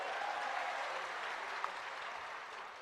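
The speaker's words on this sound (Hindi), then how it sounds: "जरा जोरदार तालियों से उनका स्वागत करो" A crowd at a political rally in Badnawar, Dhar, claps to welcome the national party president, a steady wash of applause at moderate distance, fairly even in level with one brief sharper clap near the end.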